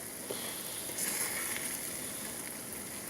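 An egg sizzles steadily in a pan, cooked outdoors without electricity during a heavy rainstorm, with a continuous bright hiss running through the whole moment and no talking.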